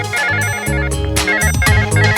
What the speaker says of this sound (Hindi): सुमन, अरे तुम्हें तुम्हारी सरप्राइज पार्टी में इनवाइट करने के लिए फोन कर रही होगी, उठा लो।